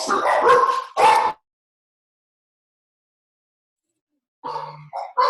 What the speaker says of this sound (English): My dogs want to contribute to the conversation.